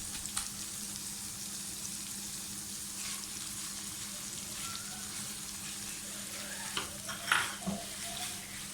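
Chicken frying with green chili in a pan gives a steady, fairly faint sizzling hiss with a few spatters and a brief stirring scrape near the end.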